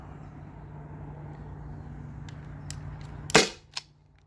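A single sharp pop from a Byrna SD launcher fired with a Daisy CO2 cartridge, close and loud after a quiet stretch of room noise, followed by a fainter second crack.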